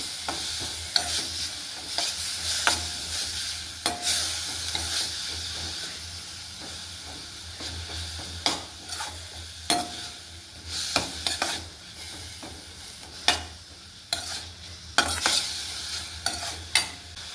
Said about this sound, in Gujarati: બીટને આપણે 2-3 મિનિટ જેવું શેકાવા દઈશું ઘીમાં.